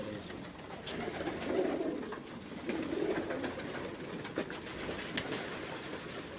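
Domestic pigeons kept at a house loft coo in low, rolling phrases, with swells around the second and third seconds over a steady background hiss and a murmur of faint voices.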